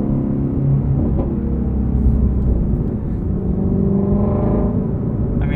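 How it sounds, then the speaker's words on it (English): A 2020 Ford Mustang Shelby GT350R with its 5.2 liter flat-plane-crank V8 drones steadily through the exhaust, a loud, continuous low rumble heard from inside the car with slight rises in pitch. "you just want to listen to the exhaust all day long"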